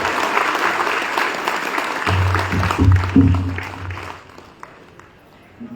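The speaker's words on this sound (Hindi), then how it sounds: "जोरदार तालियों से स्वागत करें।" Loud audience applause at a party workers' meeting in Raigarh welcomes Sanjeev Jha, a dense sustained clapping that swells midway with a low hum underneath, then thins out and fades near the end.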